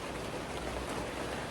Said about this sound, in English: So it's chucking it down now.